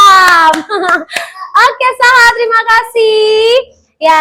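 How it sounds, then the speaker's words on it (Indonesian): Sixth-grade children in a classroom do a rhythmic tepuk mantap clapping chant, short bursts of claps mixed with loud sung and shouted voices in a quick repeating pattern. "Mantap, tepuk mantap berkali-kali."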